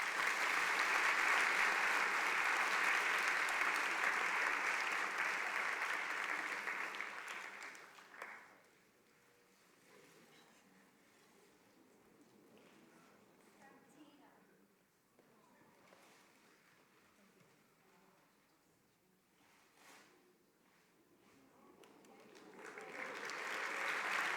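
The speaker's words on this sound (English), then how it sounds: "So another round of applause for them too, please." A school assembly audience applauds the faculty in a loud, full burst that fades after about eight seconds into quieter murmuring and scattered sounds, then swells into applause again at the end.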